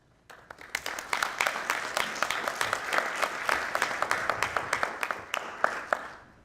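An audience at a meeting about saving the post office applauds. Scattered individual claps quickly build into a dense, fairly close round of clapping that holds steady for several seconds.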